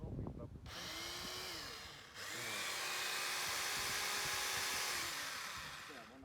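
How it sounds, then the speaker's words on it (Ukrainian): A Sequoia SEPS0810 electric pole saw starts with a motor whine, drops briefly, then revs back up into a sustained high buzzing drone that tapers off near the end, with a voice briefly heard at the start. "Ми просто покажемо, як вона працює в роботі."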